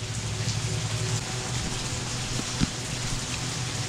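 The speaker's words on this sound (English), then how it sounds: "Well, looks like the rain's going to lighten up for a bit." A steady rain shower during a summer pop-up storm falls as a continuous hiss of drops on surfaces, with one brief sharper tap partway through and no voices.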